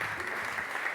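Audience applause at a book presentation, a brief continuous burst of many hands clapping, even and moderately loud with no pauses.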